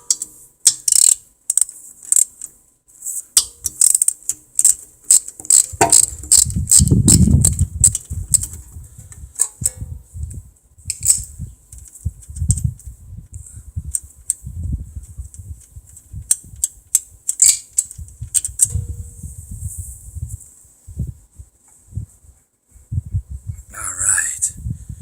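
Ratchet wrench with a 10 mm socket loosening carburetor bolts on a small engine, with a close, rapid clicking that comes in repeated bursts, a few thuds between them, and no talking.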